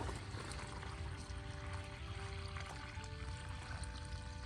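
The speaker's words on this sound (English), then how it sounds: "I'm just gonna water the hole first" Rainwater pours steadily into a freshly dug planting hole for hardy mums, a continuous faint splashing trickle running throughout under outdoor background noise.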